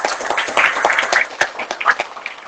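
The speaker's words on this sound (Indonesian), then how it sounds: "Rekan-rekan, biar semangat kita kasih aplaus buat pembicara itu." A seminar audience on the law of PPAT land deed officials applauds the speaker with a brief, dense burst of many hands clapping together in a hall.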